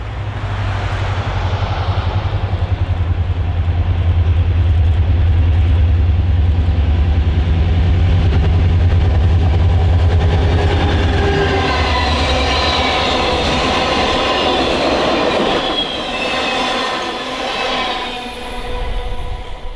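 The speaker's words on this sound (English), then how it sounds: "we caught another local at Wytheville with an SD40-2 and a standard cab -8 for motive power." A Norfolk & Western local freight train led by an SD40-2 diesel locomotive rumbles past at Wytheville, a loud, steady low engine drone with rolling wagon noise and rising metallic clatter as the cars go by.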